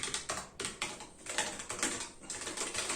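Continuous typing on a Keychron K1 V4 full-size 106-key keyboard with brown switches, a steady run of close, moderately loud clicky keystrokes with brief pauses between bursts.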